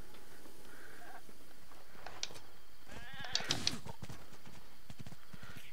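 Goat bleats in Zelda: Breath of the Wild, a couple of short nasal cries close by amid soft game ambience and light hoof-like clatter, with no talk over them.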